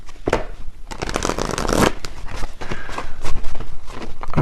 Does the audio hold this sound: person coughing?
no